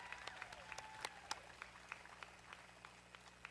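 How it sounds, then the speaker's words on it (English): Scattered applause rises from graduates and guests at a college commencement ceremony, quiet and sparse with distinct individual claps heard over a low background hum. "Please join me with a great round of applause."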